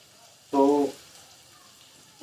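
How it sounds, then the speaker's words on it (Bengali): Chopped garlic dropped into a pan with frying onions gives a brief loud sizzle burst, then a quiet low crackle as it settles into gentle frying. "পেঁয়াজগুলোর পাশাপাশি আমি কুচি করে কেটে রাখা রসুনগুলোও আমি দিয়ে দিচ্ছি। হালকা গোল্ডেন ফ্রাই করব।"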